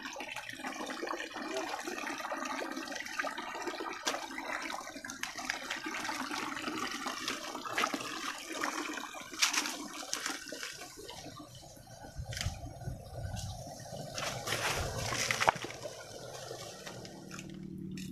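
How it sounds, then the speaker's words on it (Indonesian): Water gushes out of a homemade pump that runs without electricity or fuel, fed from a dammed spring, with a steady splashing, gurgling flow that surges and falters in places. "Oke teman-teman, airnya sudah keluar."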